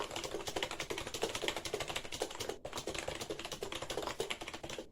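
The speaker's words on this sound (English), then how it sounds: "I'm going to give you some typing. I'm hitting other keys." Rapid, steady keystrokes clatter on a XINMENG 60% RGB gaming keyboard, close and continuous with a brief pause midway, dense overlapping clicks and no voice.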